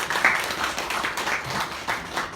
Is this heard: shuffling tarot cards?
no